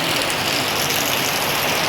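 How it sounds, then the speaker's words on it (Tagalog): Heavy typhoon rain pours in a dense, unbroken roar, loud and close with no gaps. "ayun oh, grabe, ang lakas ng ulan"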